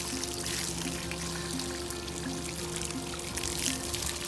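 Steady water gushing from a garden hose outdoors at a barn during a horse's bath, a continuous close pouring rush with a faint tonal hum beneath and no talk.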